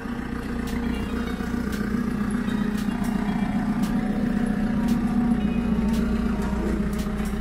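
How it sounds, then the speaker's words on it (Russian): A combine harvester's steady, rumbling engine idles close by, a continuous low drone with a constant hum and no voices over it. "Двигатель четко работает."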